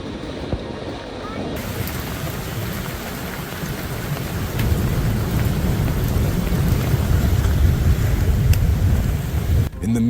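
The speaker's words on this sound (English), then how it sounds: "In the midst of heavy rain" Heavy rain pours down in a dense, steady roar that grows louder partway through, with no voices heard.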